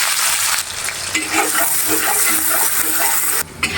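Steady sizzle of onions frying in oil in a clay pot fills the whole stretch, with scraping stir sounds and small clatters over it; no talking.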